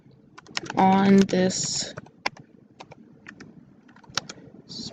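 Typing on a computer keyboard for a text caption, a short rapid burst of key clicks followed by sparse single taps, close and clear, with a voice speaking briefly over the start.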